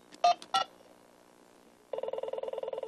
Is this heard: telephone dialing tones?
yes